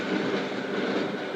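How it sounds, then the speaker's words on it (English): A train runs along the rails with a steady, continuous rumble and faint rhythmic wheel noise, close and even throughout with no voices. "I even took the slow train."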